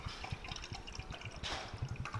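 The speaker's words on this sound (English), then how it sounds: "So we're going to pour our water into our cup here." Water poured from a WWII German canteen into a cup, a close, quiet, uneven trickle and splash with a brief fuller gush partway through.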